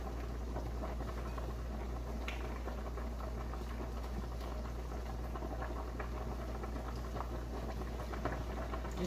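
Shrimp sizzle in a hot pan while being flipped to cook evenly, a steady dense crackling and bubbling hiss that holds at a constant level throughout.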